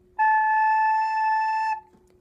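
A single sustained wind-instrument note fingered with the first and second fingers, starting cleanly, holding steady and bright for about a second and a half, then stopping abruptly, played alone in a quiet room.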